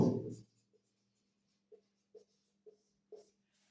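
Marker or chalk writing on a board during a Bengali math lesson on ratio and proportion, heard as four short, quiet scratching strokes spaced evenly after a brief opening burst of sound.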